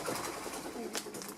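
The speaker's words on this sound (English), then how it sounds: "It's a pigeon." A pigeon coos faintly inside an old abandoned pit building, a soft low burbling call over a noisy, echoing room tone.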